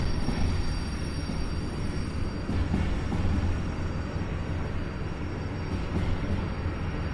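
A train in the Derail Valley train simulator rolls along under full brake, a continuous low rumble with faint high squealing and rattling, steady and close throughout with no talking.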